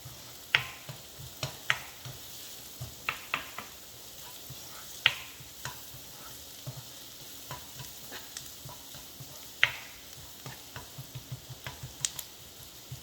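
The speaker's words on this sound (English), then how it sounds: "Make sure you cook on medium flame to avoid burning of onions." Onions frying in a pan over a medium flame, a steady low sizzle broken by repeated sharp clicks and scrapes of stirring, close and alone with no talking.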